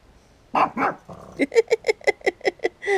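A dog lets out a rapid string of about ten sharp, close barks and yips after a couple of opening woofs.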